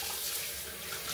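Cold water runs steadily from a kitchen tap during washing up on a chilly evening, a brief, soft, even rush of flow with no talk.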